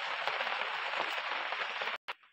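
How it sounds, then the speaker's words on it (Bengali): Raindrops falling hard during cooking, a dense continuous patter and hiss that cuts off abruptly near the end, leaving a brief quieter tail. "হ্যাঁ, বৃষ্টির জলের ফোঁটা পড়ছে,"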